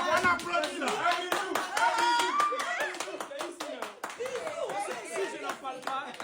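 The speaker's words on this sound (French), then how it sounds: "On applaudit là." A crowd of people claps hands in a quick, dense patter that runs steadily throughout, with voices chattering and talking underneath the applause.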